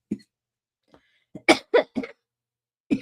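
A person coughs in a burst of several harsh, close coughs, then a single cough after a short pause, with a few faint breaths and throat sounds before.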